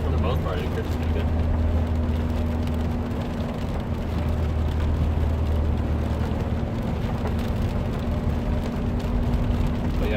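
A 2015 Subaru WRX with a Stage 1 tune pulls hard at full throttle in first gear on a rainy road, giving a steady loud engine roar with road and rain noise throughout, while someone talks over it.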